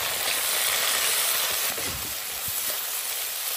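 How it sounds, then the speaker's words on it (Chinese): Ginger, garlic, chili and tomato hit hot oil left from frying fish, a loud continuous sizzle with a few soft stirring clatters, close and without talk. "然后是煎鱼后的油，姜蒜辣椒西红柿"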